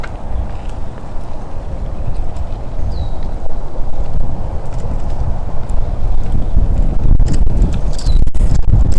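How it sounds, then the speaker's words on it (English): Strong wind gusts across an outdoor walk through a big cat rescue sanctuary in the evening, a loud continuous rumble buffeting the microphone and building toward the end, with faint scattered background sounds and no talk. "Very windy."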